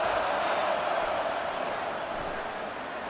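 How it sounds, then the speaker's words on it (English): Stadium crowd roaring steadily in the College Football 25 video game, a loud, dense sustained cheer that holds level and eases slightly toward the end, with no talk over it. "Decibels rising as the crowd gets behind this defense on third down."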